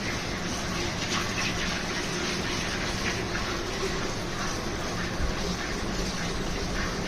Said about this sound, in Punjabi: ਆ ਦੇਖੋ ਧਾਰਾਂ ਦੇਖੋ ਕੀ ਬਾਤ ਆ ਬਾਲਟੀ ਕਰਕਾਟ ਪੈਂਦਾਗਾ